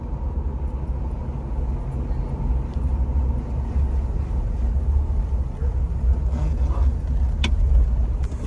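An old Jeep rolls through the hills, its engine and road noise forming a steady low rumble heard from inside the cabin, continuous and fairly loud, with a few faint clicks near the end.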